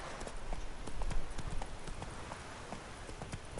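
Horse hooves in the video game The Witcher 3 clip-clop in a quick, steady rhythm over a rough noisy background, close up and moderately loud.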